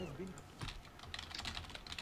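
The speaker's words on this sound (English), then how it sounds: "I'm typing that one." Rapid clicking of computer keyboard keys during a live stream, with irregular bursts of keystrokes close up over a faint room background, no talking.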